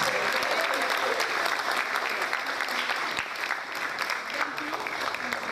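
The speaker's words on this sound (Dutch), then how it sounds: "Een applaus." An audience claps steadily at a music event, dense, sustained applause that fills the room at moderate distance, with some crowd noise mixed in.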